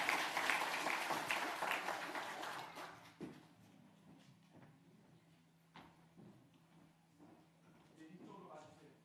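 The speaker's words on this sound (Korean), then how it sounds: "축복의 박수, 축하의 박수 한번 올려드리겠습니다" A church congregation applauds warmly at a Christmas infant baptism service, the clapping dense for a few seconds and then thinning out, with faint voices and shuffling afterward.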